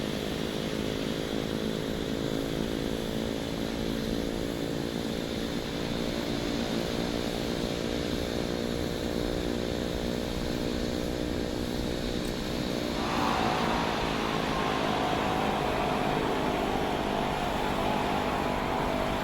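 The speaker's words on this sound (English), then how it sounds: "we're just taxiing up here to the right into Odyssey FBO" A propeller aircraft taxis toward an FBO ramp, its engines droning loudly and steadily from inside the cabin with a harmonic whine that shifts pitch partway through as power changes; no voices are heard.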